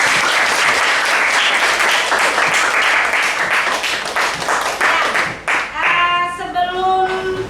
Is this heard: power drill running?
no